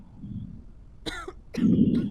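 A patient in the video game Quarantine Zone gives two close coughs, a harsh burst followed half a second later by a heavier, throaty one.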